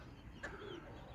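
A single short, soft coo from a roller pigeon, faint and close, heard alone over a low background rumble.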